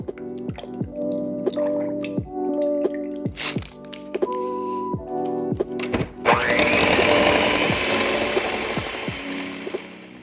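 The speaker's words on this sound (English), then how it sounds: "I'm going to whip up 250 milliliters of heavy whipping cream with 1 package of vanilla sugar." Heavy cream whipped with vanilla sugar for a no-bake lime cheesecake, a whisk or mixer knocking and splashing in short rhythmic strokes that turn into a denser, steady whir partway through.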